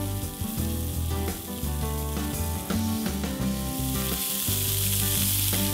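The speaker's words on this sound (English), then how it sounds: "We're then going to saute our beef chuck cubes over medium-high heat until evenly browned" Beef chuck cubes sauté in olive oil in a large skillet over medium-high heat, a loud, steady sizzle and crackle with occasional stirring scrapes running through the whole stretch.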